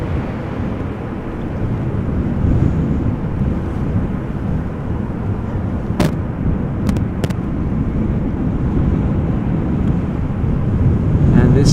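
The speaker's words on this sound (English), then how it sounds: "You can see the wind is blowing almost directly towards us." Strong Storm Pia wind buffeting at Amsterdam Schiphol Airport, a continuous loud roaring rumble across the whole stretch with a few sharp clicks, with a person talking intermittently over it.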